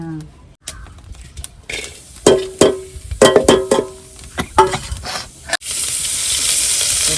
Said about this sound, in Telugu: నూనె పోయకుండానే ఎండుమిరపకాయలు వేసేస్తున్నారా